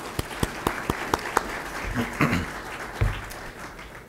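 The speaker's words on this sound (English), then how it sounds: "Give him one more round of applause" An audience applauds at a college technology day award ceremony, a burst of steady clapping that swells briefly and then tapers off, with no talking over it.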